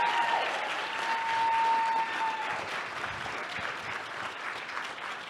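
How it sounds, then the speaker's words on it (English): An audience at a Money 20/20 conference session applauds for Zach Christensen, a sustained burst of crowd clapping that swells early then gradually thins and softens, with a faint tone in the background. "Will you give him a round of applause?"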